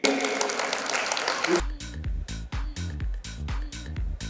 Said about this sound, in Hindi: जोरदार तालियां प्लीज सुबेक सिंह के लिए